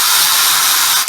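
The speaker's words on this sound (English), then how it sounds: "I've basically finished it off with a little battery drill and these little" A small battery drill spins a 3M sanding disc against a metal diff pan, giving a steady, close, loud high-pitched whir that briefly dips at the end.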